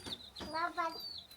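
A chicken clucks in short, close bursts at a family birthday gathering, with a child's and adults' voices mixed in around the calls.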